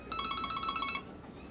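A mobile phone rings with a bright, repeating electronic melody that pulses quickly for about a second and then cuts off, fairly quiet against faint room tone.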